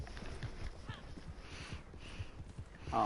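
Horse hooves clip-clopping in the Red Dead Redemption 2 video game, a regular trotting rhythm of soft thuds that is moderately close and carries on steadily across the whole stretch.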